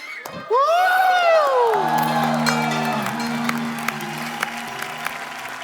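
Studio audience on The Kapil Sharma Show bursts into loud cheering, whoops and clapping that swell suddenly, then settle into steady applause as music plays underneath.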